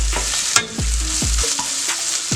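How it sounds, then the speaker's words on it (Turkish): Tomato paste sautéed in a pan for menemen, a loud close sizzle broken by repeated scraping stirs of a utensil against the pan, about five strokes in quick succession. "Birazcık domatesin salçanın kokusu gidene kadar kavuruyorum"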